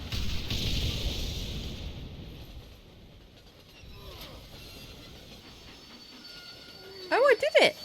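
Train rolling past in a video game, a rumbling wash of wheels and carriage noise that fades in the middle, then a few sharp squealing metallic tones near the end, with speech underneath.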